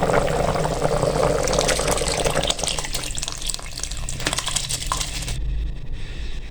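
Rice is tipped into a pot of potato and pea stock, a dense rushing, pattering pour with splashing water that runs for several seconds and then eases off.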